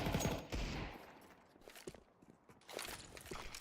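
Gunfire during a Counter-Strike match on the Vertigo map: a loud opening burst, then scattered sharp shots and footstep clicks, with a denser volley of firing returning toward the end.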